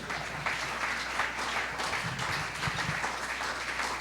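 Church congregation applauding together during a Spanish-language sermon on the Second Coming, a steady, dense wash of clapping that holds at an even level throughout, with no voices over it.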